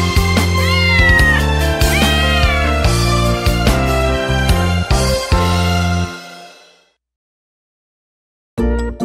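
Cartoon cat meows repeated in a children's nursery song, loud and rhythmic over bright music, ending abruptly before a short silence and the music's return.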